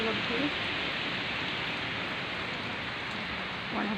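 Steady rain hisses evenly all around, a continuous wash of falling water with faint voices briefly audible in the background.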